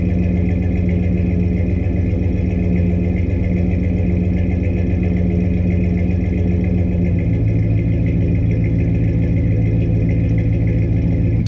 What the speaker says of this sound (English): Even the exhaust note sounds better.